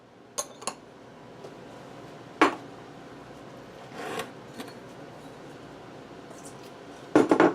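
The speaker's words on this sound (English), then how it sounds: "I'm by my sink, so you're going to hear me putting dishes in there." Dishes are set into a kitchen sink in a home kitchen: a few scattered clinks and clatters of crockery and cutlery, sharp but moderate, separated by quiet gaps.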